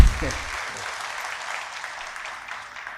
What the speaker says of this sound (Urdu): ایک دفعہ اور تالیاں بجائیں بھرپور